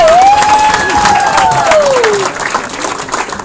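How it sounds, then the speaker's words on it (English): Audience applause and light cheering for a comedian at a comedy fundraiser in a bar venue, a dense, close burst of clapping that tapers off, with a whistle rising over it. "Big round of applause for Kyle."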